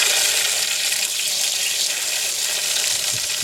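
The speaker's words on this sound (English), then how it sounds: "hot water is going to come jetting out of here" Hot water jetting hard from the overpressure relief valve of an Atwood RV water heater during a flush: a loud, steady, broad rushing hiss, close up and unbroken, with no voices over it.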